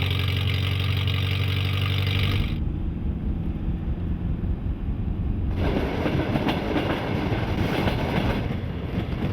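The Trans-Siberian train runs with a loud engine drone at first, then a steady rumble and rhythmic clickety-clack of wheels on rails, close up and continuous without speech.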